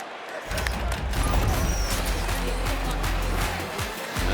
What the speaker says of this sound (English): a big roar from the crowd after they failed to do it at the other end of the field